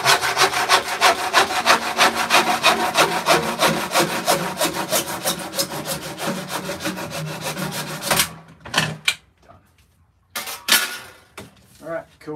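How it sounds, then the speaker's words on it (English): A hand saw cuts through PVC pipe in a workshop with fast, even rasping strokes for about eight seconds, then a few slower strokes and rustles with brief pauses as the cut finishes, close and fairly loud. "I'm sure one of you will tell me there's a better way to cut PVC"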